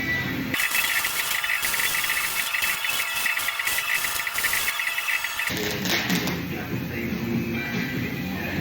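A bead is welded around a steel smudge pot in a shop, a steady loud crackling, hissing arc with rapid buzzy pulses that keeps going through the whole stretch, its tone shifting partway through.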